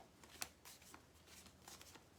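Playing cards are shuffled in a quiet ASMR setting: soft riffling and flicking bursts come in a loose rhythm, faint and close, with no talk.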